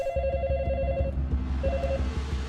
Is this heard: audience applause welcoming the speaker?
no